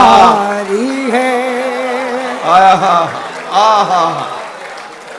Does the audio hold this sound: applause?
yes